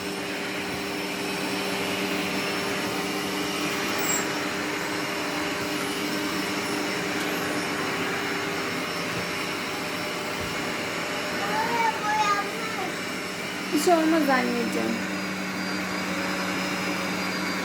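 A vacuum cleaner drones steadily throughout at close range, its whine constant while a few people talk briefly over it.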